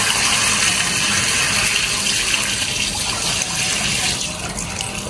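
Rinse water poured steadily out of a container while washing sand for the third time, a continuous loud gushing splash that holds for several seconds and eases slightly near the end.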